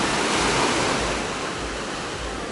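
Sea waves washing onto the beach at Lara, Turkey, a steady broadband surf roar with gentle swells, fairly close and loud, with no talking.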